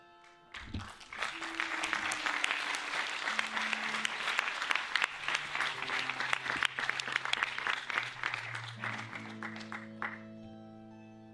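Audience applause fills the hall at the closing ceremony of the 35th Lovers Film Festival, a dense, steady burst of clapping lasting about ten seconds, with faint music or tones underneath and a quick fade at the end.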